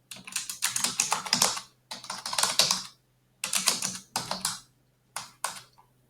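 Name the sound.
typing on a computer keyboard to enter an account name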